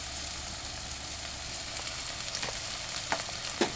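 Fish curry masala with tomato, chilli and potato sautés in a pan, a steady close frying hiss with a few sharp spoon scrapes and clinks toward the end.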